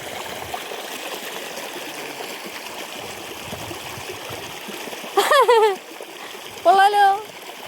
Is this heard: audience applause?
no